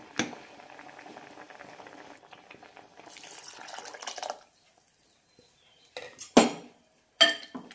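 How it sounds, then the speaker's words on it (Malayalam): A pot of sardine curry with tamarind bubbles at a low simmer, then a few sharp metallic clinks of a utensil against cookware break through near the end. "നന്നായി തിളച്ചിട്ടുണ്ട്"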